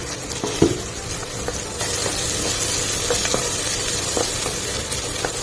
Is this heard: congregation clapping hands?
no